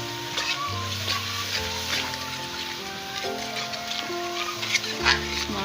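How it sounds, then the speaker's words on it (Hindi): Spices and green chickpeas being stirred and fried in a pan for a chickpea and potato curry, a steady sizzle with scraping stir strokes, close and moderately loud, with some background music-like tones underneath. "मिक्स करती हूँ"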